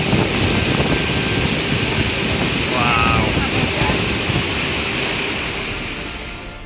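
A constant, heavy roar of rushing water from Iguazú Falls in Brazil fills the air, with someone briefly exclaiming partway through.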